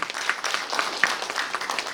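An audience at an academic conference on the Korea-China joint front during the anti-Japanese war applauding, a brief burst of many hands clapping at moderate volume, fairly even throughout.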